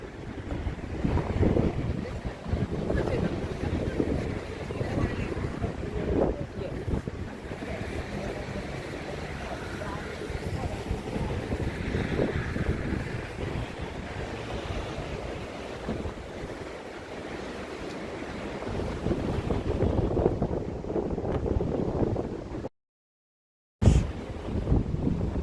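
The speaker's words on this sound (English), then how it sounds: "it's windy, as I was saying, so you feel the cold even more" Strong wind gusts outdoors in cold weather, a broad steady rumble buffeting the microphone throughout, with a brief dropout near the end.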